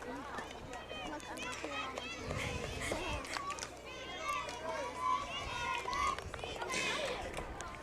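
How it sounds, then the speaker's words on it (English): Children on the batting team chant rhyming cheers at a 10-and-under softball finals game, a lively chorus of young voices mixed with crowd noise and movement nearby. "You may hear in the background some little rhyming cheers"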